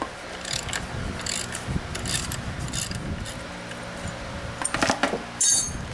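5/8 bolts being loosened with a ratchet on the rear CV axle of a Polaris Sportsman ATV, with close clicking ratchet sounds and metallic handling knocks, growing busier toward the end.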